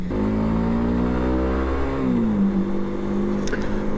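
A Zontes ZT125C 125cc cruiser motorcycle engine revs steadily while riding, its pitch climbing then dropping slightly as it is held in gear, a continuous close, loud drone with no talking.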